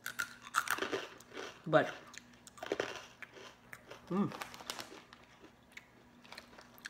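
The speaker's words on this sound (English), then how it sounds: "This reminds me of those sour cream and herb potato chips. But instead of potato, it's bread." Crunchy sour cream and herb bread chips being chewed in several bursts of close crunching, with a short spoken word among the bites.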